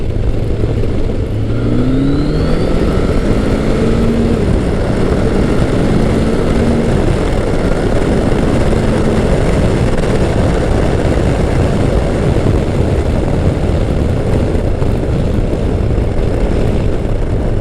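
Kawasaki Concours 1000 (GTR1000) motorcycle engine while riding, a loud continuous drone with rising pitch as it accelerates through the gears, buffeted by heavy wind noise.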